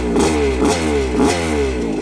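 A restored 1980 Yamaha YZ125 two-stroke motorcycle engine is revved in three quick, evenly spaced blips over a steady buzzing idle, loud and close.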